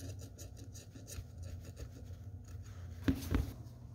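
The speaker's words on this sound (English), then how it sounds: "I have to take the time and scrape off all the original gasket that was on there" Old gasket material is scraped off a Nissan 350Z timing cover, a quiet, close rasping scrape in short uneven strokes, with a sharper, louder pair of scrapes near the end and no talking.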